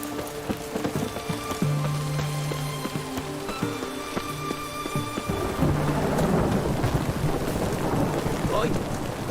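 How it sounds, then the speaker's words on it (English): Thunderstorm in The Witcher 3 video game: rolling thunder and steady rain build in intensity under tonal game ambience, with a few brief spoken lines. "A storm, damn it."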